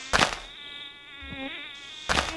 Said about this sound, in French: J'entends une mouche.